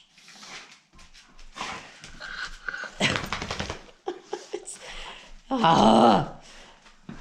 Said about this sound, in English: where the dogs are fighting